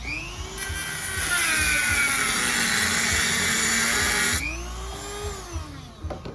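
A small rotary cutting wheel grinds into part of a BNC coaxial connector with a loud, sustained high-pitched whine for several seconds, its pitch dipping and recovering as it bites, then spinning down into quieter tool noise.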